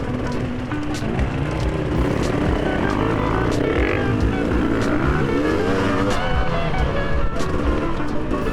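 Aprilia Tuareg motorcycle ridden along a single track, its engine droning steadily and loudly throughout with shifting pitch, close and without pauses.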